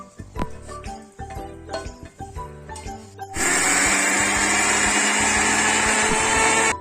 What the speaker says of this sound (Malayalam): വറുത്ത തേങ്ങ മിക്സിയിൽ അരച്ചെടുക്കാം.